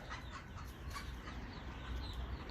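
A Black Modet rooster chases an American rooster around the coop, and low, scattered clucks and scurrying carry over a continuous outdoor rumble, fairly quiet throughout.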